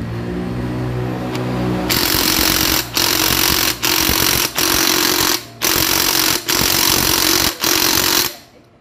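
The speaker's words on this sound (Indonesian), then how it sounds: "sekarang kita lepaskan pakai impact saja di bagian sini" Impact wrench hammering at a bolt: loud continuous rattling bursts after a lower motor hum, broken by several short pauses as the trigger is released and squeezed again, close up and alone.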